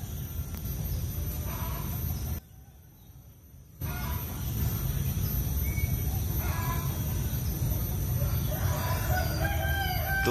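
Chickens crow and cackle repeatedly in agitated alarm at a threatening mongoose, several birds calling at once against a steady outdoor background, with a brief drop-out early on.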